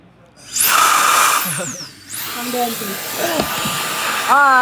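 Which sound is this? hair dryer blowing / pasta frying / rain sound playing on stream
hair dryer blowing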